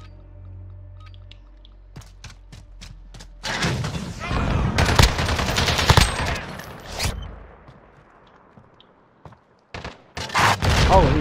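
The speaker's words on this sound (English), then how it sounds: "I hit him once with the bazooka." Video-game bazooka fire comes through as heavy booming blasts alongside sharper gunshot cracks. They arrive in dense loud bursts broken by quieter gaps, with faint speech under parts of it.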